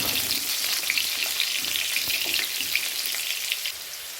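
Cubed potatoes fry in hot refined oil with a lightly salted, steady crackling sizzle, broadband and continuous at close range with no voices.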